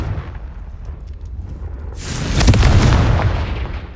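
Confringo fire spell blast in Hogwarts Legacy, a loud booming burst that erupts about halfway through after steady low rumbling ambience, then rolls on with crackling decay.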